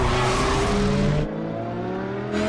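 A supercar engine accelerating in a Batman game, a loud close roar with rising pitch that cuts to a quieter drone midway and then swells again, with no talk.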